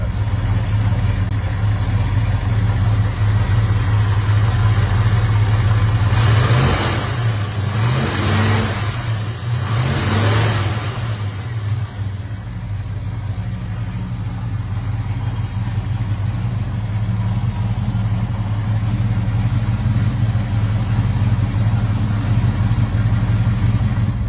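A 1967 Chevelle SS396 with a rebuilt big-block V8 rumbles steadily close by, holding a loud, continuous idle with a brief swell of revving partway through.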